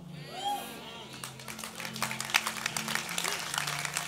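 Church congregation clapping during a sermon, a dense wash of many hands spread through the room, with a sustained tonal hum of music and crowd underneath.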